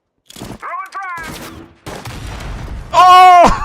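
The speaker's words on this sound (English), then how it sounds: "Throwing frag!" A frag grenade blasts in the WWII shooter Hell Let Loose, loud broadband bursts mixed with gunfire crackle, while players talk over the action and a sharp exclamation rises near the end.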